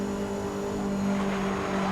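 A Lancia race car in the Need for Speed video game holds a steady high engine drone with a strong constant tone, loud and close for the whole stretch, without talk.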